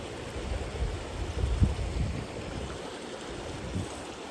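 Fast-flowing stream water in the Black Hills, a steady broadband rush and wash with a slight swell in the middle, close and continuous with no voices.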